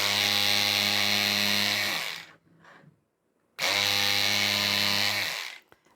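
Rechargeable electric fabric scissors cut through four layers of fabric in two close, loud buzzing motor bursts, each about two seconds long with a steady whine, separated by a short quiet gap.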